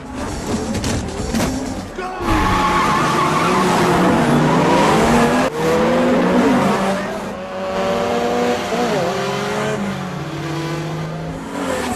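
Race cars launch at the start of a street race in a Fast film scene, engines revving hard and roaring with tires squealing and screeching. Pitch climbs through gears, and a voice speaks over part of it.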